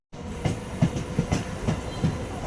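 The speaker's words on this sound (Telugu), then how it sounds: "ఆర్ట్స్ కాలేజ్ దగ్గర మనం ట్రైన్ దిగడం జరిగింది ఇక్కడ ఎంఎంటిఎస్ ట్రైన్ హైదరాబాద్లో" MMTS commuter train in Hyderabad rolling past close by near Arts College station, its wheels clacking over rail joints in a steady, regular rhythm.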